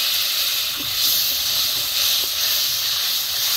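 Spiced water poured into hot masala for a river prawn and taro curry sizzles with a loud, continuous steamy hiss that holds steady close by.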